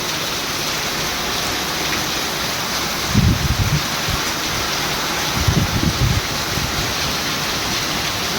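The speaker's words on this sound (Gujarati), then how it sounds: "બહુ જ વરસાદ છે" Heavy night rain pours down in a dense, unbroken roar, and two louder bursts of splashing or rumbling rise briefly above the steady wash.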